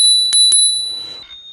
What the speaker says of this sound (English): Stop ringing that bell!